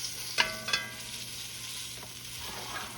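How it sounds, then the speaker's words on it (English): Turkey necks sear in a hot pan with a steady, close sizzle and frying crackle, broken by a couple of sharp scrapes as they are stirred. "we got these pretty much seared off here"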